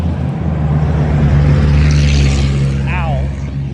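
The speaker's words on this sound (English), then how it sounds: "really loud truck there" A really loud truck passes close by on a daily walk, a heavy rumbling engine roar building and fading over several seconds, with wind and outdoor noise around it.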